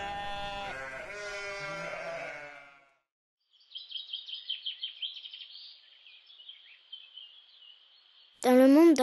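A sheep from a flock lets out a single loud bleat near the end, after someone speaks at the start and a stretch of thin, chirping bird-like calls.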